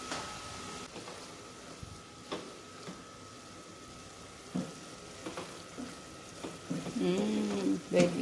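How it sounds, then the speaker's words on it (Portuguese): Ground beef and tomato paste fry together in a pan with a soft, steady sizzle, broken by occasional scraping stirs and utensil taps that grow busier near the end. "Vou colocar aqui pra ela dar uma fritada junto com a carne."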